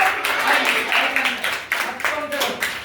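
Students in a classroom clap together several times, a cluster of bright, close hand claps in bursts, with a teacher speaking over the applause.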